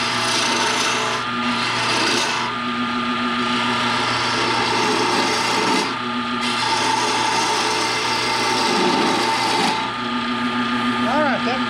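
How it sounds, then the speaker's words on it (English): A dull gouge rasps and scrapes steadily through wood in repeated close strokes, each grinding pass broken by short pauses. "Would be much easier if my gouge was sharp."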